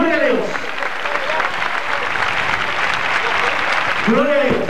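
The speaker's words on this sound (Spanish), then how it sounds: "Un aplauso para Dios, hermano, dámelo." Congregation applauding at a 1998 evangelistic crusade in Santiago, Chile: dense, sustained clapping from a large crowd fills the whole stretch, with a preacher's voice breaking in briefly at the start and end.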